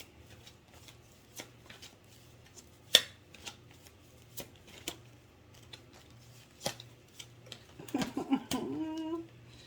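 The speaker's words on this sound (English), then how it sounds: "These cards are hella hard to shuffle." Tarot cards are shuffled in short, crisp riffles and taps, scattered irregularly over a quiet background, with a low hum and a brief voice near the end.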